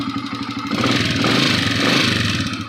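A noisy motorcycle engine that is low on oil runs steadily up close, with a rough clattering idle that swells louder and busier partway through.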